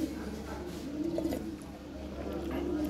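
Lahori pigeons, including milk bar birds, cooing softly at a pigeon sale, low rolling coos repeating in the background at moderate distance.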